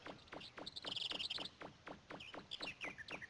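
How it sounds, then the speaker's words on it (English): Seagull calls in the Mega Man 64 game world around Kattelox, a few short bright squawks with a clustered burst near the start and more toward the end, over a steady ambient bed of soft rhythmic game sound. "Okay, there was a seagull there."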